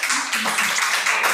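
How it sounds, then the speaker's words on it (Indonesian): A short burst of audience clapping during an Indonesian religious talk, a brief, dense patter of many hands with a voice faintly beneath it. "Ya, kita tepuk tangan dulu."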